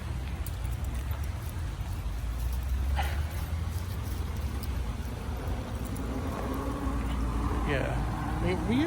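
Road traffic passing close by on a town road near a river, a continuous rumble of engines and tyres with a vehicle sweeping past near the end, loud enough to cover the water.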